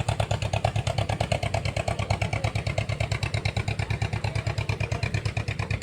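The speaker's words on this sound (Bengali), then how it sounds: "মেশিন চালিত নৌকো।" A steady, rhythmic motor engine of a riverboat carrying sand putters continuously at close range, its regular low thumping pulses unchanging throughout.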